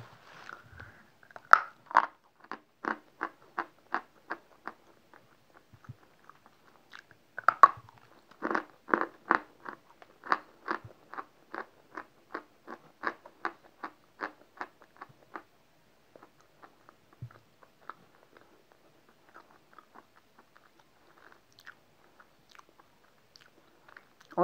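Someone bites into and chews a piece of soft, creamy, slightly damp chalk, making close, crisp crunches in two rhythmic bursts of rapid chewing separated by a brief pause, with no talking.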